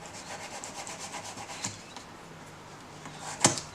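Wire ends are filed or rubbed smooth before riveting, a soft repetitive scraping in steady short strokes close by, with a couple of sharper clicks and a brief clatter near the end.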